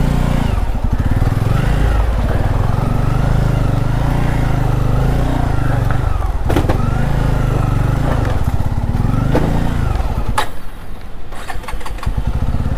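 A motorcycle on a rough, broken mountain road toward Muktinath in Nepal's Mustang valley, not an off-road bike, chugs loudly and close with its engine revving and dipping over bumps and a sharp knock near the end.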